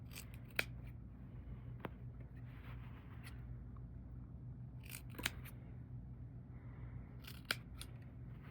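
Fabric scissors make a few sharp, isolated snips while a sewn bodice seam is trimmed, with quiet gaps and a faint low hum between the cuts and no voices.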